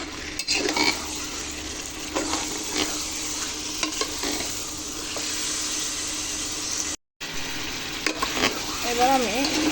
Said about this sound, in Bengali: এবার আমি মুরগির মাংসগুলো দিয়ে দেবো।